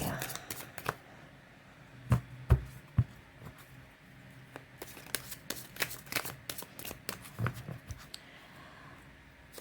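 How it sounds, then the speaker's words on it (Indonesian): Deck of tarot cards being shuffled, with soft riffles and sharp slaps and taps spread irregularly over several seconds, close, faint and clear, with no talk over it. "Sekali lagi saya kocok kartunya."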